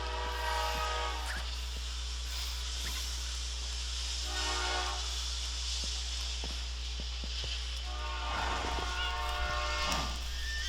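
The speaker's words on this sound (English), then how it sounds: "I'll allow the train to pass." A Minecraft train rolls past steadily in the distance, a low continuous rumble with faint clacks and a couple of brief horn-like tones, no talking.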